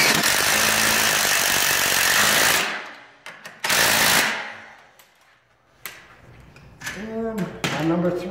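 A power driver runs in long loud bursts while screwing a garage door panel into place, with short clicks and pauses between runs and someone talking over the later part.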